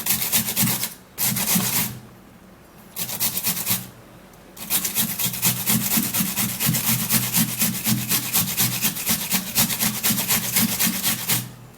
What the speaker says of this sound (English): I find grating it really simple and really fast